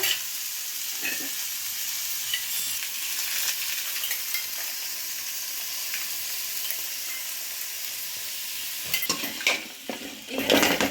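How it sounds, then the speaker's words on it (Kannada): Steady sizzling of coconut and garlic frying in oil in a pan, with occasional stirring and utensil clinks toward the end. "ಇದಿಷ್ಟು ಒಂದು ಸ್ವಲ್ಪ ಎಣ್ಣೆ ಹಾಕ್ಕೊಂಡು ಹುರ್ಕೊಂಬಿಡೋಣ ಬಾಣಲೆನಲ್ಲಿ"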